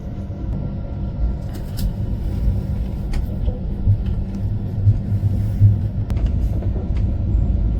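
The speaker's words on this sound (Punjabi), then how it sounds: "ਪਲੇਟਫਾਰਮ ਨਿਕਲ ਚੁੱਕੀ ਆਪਣੀ ਟ੍ਰੇਨ ਨੂੰ" The Rishikesh Intercity Express rumbles steadily away from a platform at Patiala, heavy low-pitched rolling noise with faint clanks of the wagons, continuous and fairly close throughout.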